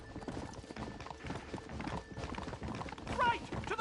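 Horse hooves galloping in a Western video game, a fast rhythmic clip-clop running steadily throughout while someone shouts urgently over it.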